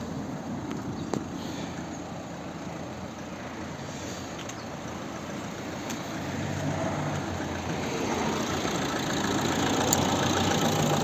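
A 2012 Opel Zafira's 1.7 Suzuki-built diesel engine idles steadily with a low, even rumble, growing slightly louder and rougher toward the end; no voices.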